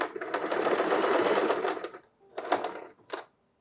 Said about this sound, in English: We are just going to stitch with the twin needle, and it will do everything that we need it to do.